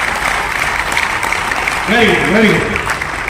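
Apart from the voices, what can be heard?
audience applause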